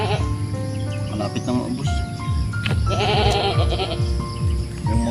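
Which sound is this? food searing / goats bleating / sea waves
goats bleating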